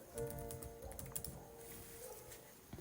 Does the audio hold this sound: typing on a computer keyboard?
yes